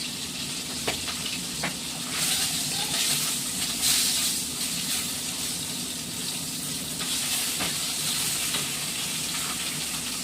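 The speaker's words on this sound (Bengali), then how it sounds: "কালো জিরে ফোড়ন দিয়ে দিচ্ছি" Black cumin (nigella) seeds crackle and sizzle loudly in hot oil for tempering a hilsa fish curry, a steady frying hiss with scattered sharp pops throughout.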